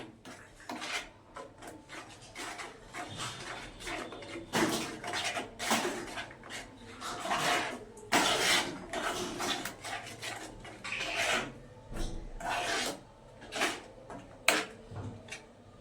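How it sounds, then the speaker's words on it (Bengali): Amla candy mixture stirred in a pan while it cooks, heard as irregular scraping and rubbing strokes of a utensil against the pan, rising and falling in loudness across the whole stretch. "ভালো করে একটু নাড়িয়ে দিলাম"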